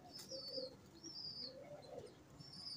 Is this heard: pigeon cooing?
yes